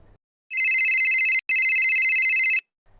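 A telephone rings in two long electronic bursts split by a brief gap, loud and close, with no voices, opening a report on a fake phone call.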